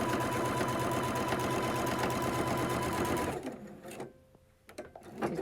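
A sewing machine stitches down a fold of elastic for an N95 mask cover, whirring steadily and up close for about three seconds before it stops, with a few small handling sounds after.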